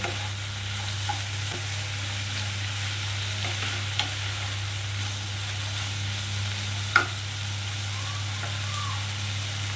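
Apple snails frying in a pan, a soft continuous sizzle under a steady low hum, with occasional light clicks and scrapes of stirring, fairly faint and without speech.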